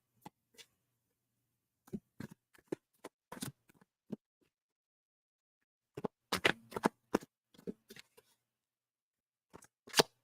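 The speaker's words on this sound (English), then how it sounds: "I like a good clean shuffle to finish." A deck of cards is shuffled in several quick riffling bursts separated by short silences, close and crisp.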